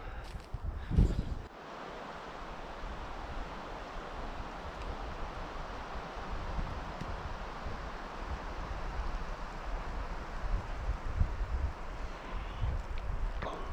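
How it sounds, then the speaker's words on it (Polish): Strong wind roars steadily through trees, a dense rushing noise with gusty swells and some rustling, no voices. "Wiatr wieje mocno i kołysze drzewami"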